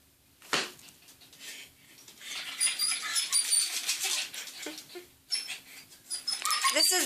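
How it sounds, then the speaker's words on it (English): A three-year-old female Yorkshire terrier reacts to a light with close, excited whimpers, yips and whines in uneven bursts, with brief quiet gaps between them and a voice faintly present. "This is Bella, a Yorkie. She is 3 years old and she hates lights"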